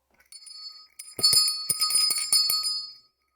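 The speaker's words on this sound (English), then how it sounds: "Ring that bell right there." A small bell is rung several times in quick succession, bright ringing tones close by with short silences between strikes.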